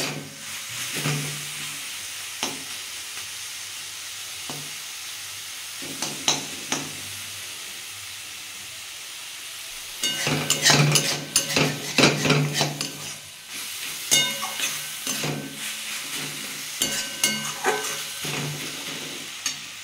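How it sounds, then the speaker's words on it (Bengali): Mustard greens (sarshe shak) frying in a pan, with a steady sizzle and hiss under repeated scraping stirs; the stirring grows busier and louder about halfway through, close and without talk. "দেখুন বন্ধুরা, আমার শাকটা ভাজা হয়ে এসছে।"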